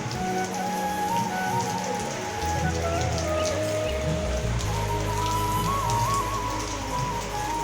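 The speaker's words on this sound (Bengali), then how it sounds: "দেখো বাইরে কিন্তু বৃষ্টি পড়ছে আজকে" Steady rain falls outside, a dense, even patter that continues without pause, with faint tonal sounds drifting in the background.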